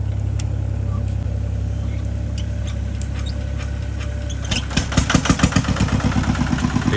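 A Nissan Big-M pickup truck loaded full with wood on a rough farm track runs with a steady low engine hum, then its engine note turns into a louder, rhythmic chugging pulse near the end.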